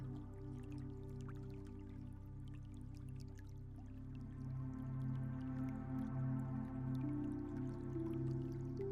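A small stream trickles and drips softly over stones, the faint, irregular water sounds drifting over a low, steady musical drone.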